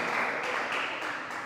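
A church congregation applauds in a dense, continuous wash of clapping that holds steady for a moment and then eases slightly.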